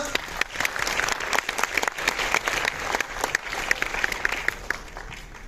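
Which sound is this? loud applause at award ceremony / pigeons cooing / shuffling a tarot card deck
loud applause at award ceremony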